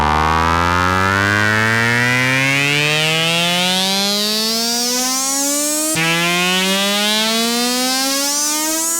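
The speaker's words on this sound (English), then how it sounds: "This is called Race Car Atari. And I use the pitch envelope to create some" Synth patch called Race Car Atari, a pitch-envelope engine sound: a buzzy harmonic tone sweeps steadily upward like a revving engine, cuts at six seconds, then climbs again, loud and continuous.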